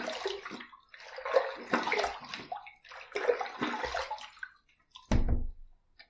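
Running water rinses a shaving brush and face after a wet shave, a broad splashing wash with gurgles and pauses, then a brief louder gush near the end.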